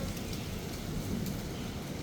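Steady rain pours during a thunderstorm at a hostel in Gandhinagar, a dense, even hiss with low rumbling underneath, with no voices.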